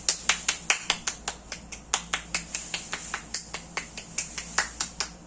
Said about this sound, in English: Ladies, give them a nice clapping.